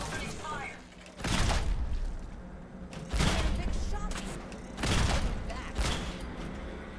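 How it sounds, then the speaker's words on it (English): Gunfire in Fallout 4 comes as three heavy bursts about two seconds apart, each a loud booming volley over a busy game background, with a voice talking in between. "Opening fire."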